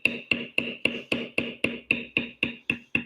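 Mallet strikes on a beveling tool compressing tooled 6 to 7 ounce leather, a steady run of about twelve sharp, evenly spaced knocks, each with a quick decay, close and alone.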